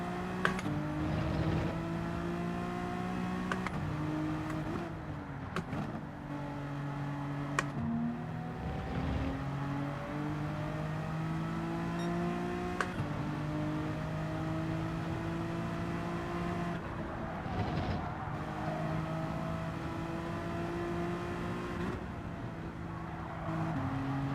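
A Porsche 911 GT3 race car engine in a racing video game drones steadily and loudly, its pitch climbing through the revs and dropping at each gearshift, repeated over and over.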